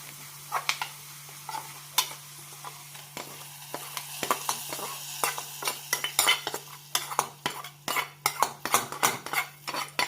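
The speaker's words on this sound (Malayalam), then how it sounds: "ഇനി ഇതിലേക്ക് താളിച്ചിടാം." A spoon scrapes and clinks against a pan as a tempering of mustard seeds, curry leaves and onion is stirred into moong sprouts curry, with faint sizzling beneath irregular metallic taps that quicken toward the end.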